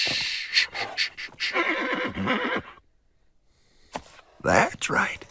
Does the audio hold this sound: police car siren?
no